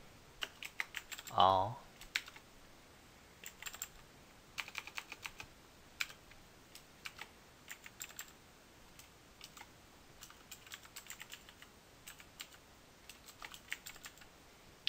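Typing on a computer keyboard in a Linux Mint terminal: scattered soft key clicks in short bursts, fairly quiet, with a brief spoken word early on.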